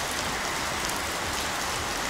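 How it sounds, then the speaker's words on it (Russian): A downpour drums steadily and loudly outdoors beside a car under repair, a continuous close wash of rain with no voices. "Ливень пошел."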